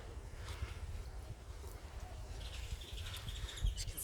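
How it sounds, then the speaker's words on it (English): Faint bird chirps and calls drift through a steady outdoor rumble around hotel pools in Costa Rica, scattered and distant rather than a clear song. "You listen to the birds. That sound's there all the while, it's lovely."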